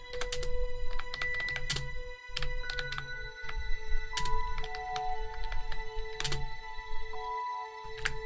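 Rapid clacky keystrokes on a Razer BlackWidow V3 mechanical keyboard, Halo Infinite edition, typed in quick runs with brief pauses, close and crisp, with a steady electronic hum in the background.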